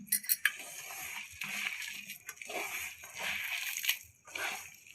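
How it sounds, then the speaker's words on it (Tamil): Water is poured into onion bonda batter in a bowl, giving quiet sloshing and trickling with a few small clinks, faint and close, with no talking. "தண்ணி ஊற்றிக்கலாம்."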